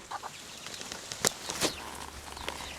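Backyard hens cluck softly outside their coop, a few scattered faint calls and short clucks at a distance with no talking over them.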